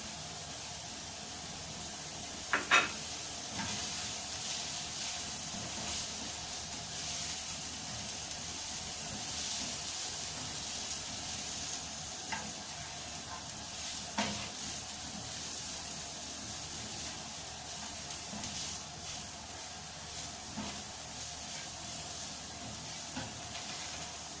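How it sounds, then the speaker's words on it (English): Chili flakes dropped into hot oil with dry fish frying, Sri Lankan style, a continuous loud hissing sizzle throughout with occasional sharp pops and spoon clicks. "Adding the chili flakes."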